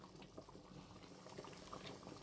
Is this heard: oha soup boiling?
yes